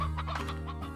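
Hen-hen chickens in the video game Slime Rancher cluck in a brief, close burst of clucking over a steady background hum.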